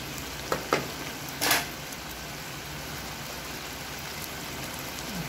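A dish simmering with coconut milk in a pan gives a steady bubbling sizzle, broken early by a few brief scrapes of a utensil stirring, then continuing evenly at close range.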